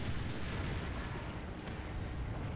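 Tank taking a hit and being destroyed in the War Thunder video game, a dense, loud rumbling blast of gunfire and explosion noise that fills the whole moment with no pause.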